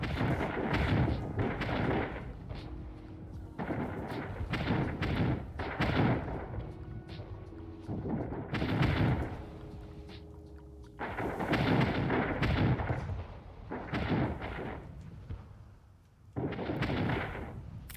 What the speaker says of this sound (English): Guns blazing. We're going to fight off this single monitor.